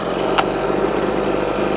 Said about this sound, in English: Now to restart it, we should be able to just give it a pull.